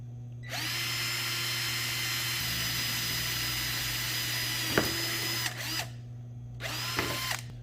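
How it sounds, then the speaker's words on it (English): A power drill whines at high speed in a long continuous run while drilling pilot holes for trim screws in a Jeep ZJ window storage build, then stops and starts again in two shorter bursts, loud and close. "so drill some pilot holes"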